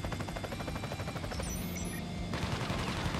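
An airstrike in the video game Crisis Core Final Fantasy VII Reunion unleashes a dense, continuous roar of rapid gunfire and blasts, loud and sustained throughout with a sharp shift in texture partway through.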